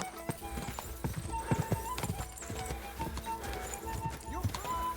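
Horse hooves clatter in a fast galloping rhythm during a race in the video game Kingdom Come: Deliverance 2, mixed with whinnies and voices talking over the pounding.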